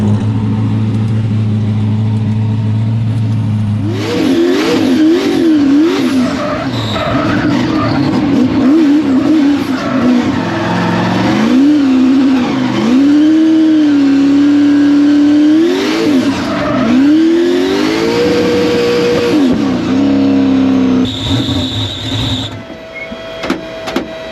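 A Subaru BRZ drifts at Wicked Big Meet, its engine revving hard and close while the tires squeal in long wavering howls that rise and fall for about twenty seconds, then drop away near the end.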